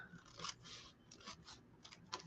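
Scissors cut paper for decoupage in a handful of quick, quiet snips and crunchy slices, heard close by in a hushed room.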